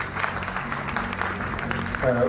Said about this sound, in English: Huge applause for him.